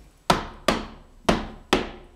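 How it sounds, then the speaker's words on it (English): Back of a putty knife pounding door trim against the door jamb, four sharp hard knocks in an uneven rhythm, close and loud with short decays and no talk. "you'll take the back side of the putty knife and you pound this trim"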